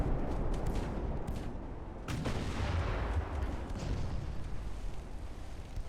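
Heavy gunfire from 10-inch naval guns in the Ultimate Admiral: Dreadnoughts naval combat game, a dense, continuous rumble of booming shots with a sharper blast near the two-second mark, loud and without talk.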